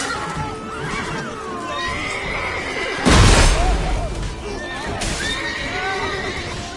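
A horse in the video game The Witcher 3 whinnies close and loud, with hoof clip-clops and a sharp burst of activity midway, set against in-game ambience and voices.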